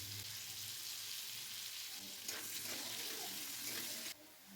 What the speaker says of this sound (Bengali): ওই কড়াইতেই আবার তেল দিয়ে লবণ ও হলুদ দিয়ে আলুটাকেও ভেজে রেখে দেবো।